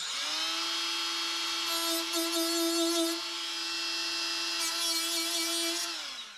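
A multi-tool cuts rivets off a C3 Corvette body panel with a steady high-pitched buzzing whine. It holds close and constant for about six seconds, with brief harsher grinding moments as the blade bites, then winds down.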